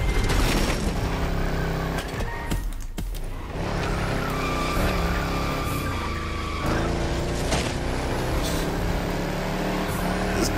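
A modified Volkswagen Touareg with a turbocharged V8 racing in The Crew Motorfest, its engine roaring and revving loud and constant while the tires squeal in long skids through corners, with a brief dip in the middle.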